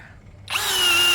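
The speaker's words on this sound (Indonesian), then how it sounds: "Dan untuk media yang akan kita bor adalah kayu mahoni" Cordless brushless drill (DCA ADJZ1203E) fitted with a 10 mm auger bit, set to speed 2 and drilling mahogany, spins up abruptly from quiet into a loud, steady, rising whine.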